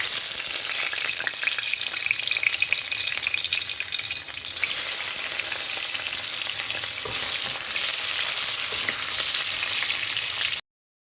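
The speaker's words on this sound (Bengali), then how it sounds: "তেলটা গরম হয়ে গেলে আমি নুন হলুদ মাখিয়ে রাখা মাছের মাথাটা দিয়ে দেবো" A katla fish head fries in hot oil with a loud, crackling, unbroken sizzle that rises slightly partway through as it settles in, close up and with no speech.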